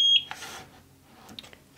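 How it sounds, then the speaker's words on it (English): A eufy SoloCam S40 security camera giving a single short, high electronic beep at the start when its sync button is pressed, followed by faint handling clicks in a quiet room. "we're gonna make sure that we see an LED flashing and that we heard a beep"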